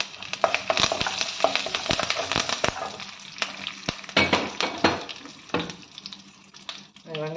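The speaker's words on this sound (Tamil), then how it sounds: "இந்த அளவுக்கு கலர் மாறினோன்னு கொஞ்சம் கருவேப்பிலை போட்டுக்கலாம்." Curry leaves sizzling and crackling in hot oil while being stirred for rice upma, with sharp spits and scrapes over a steady frying hiss, close up and with no talk.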